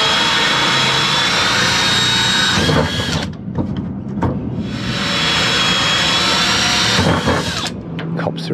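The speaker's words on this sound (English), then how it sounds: "I'm going to use a hole saw to cut the corners to some openings all the way around it" A hole saw bores through the corners of a timber cupboard front in a steel trawler wheelhouse, loud grinding cuts in two long bursts separated by a brief pause with clatter.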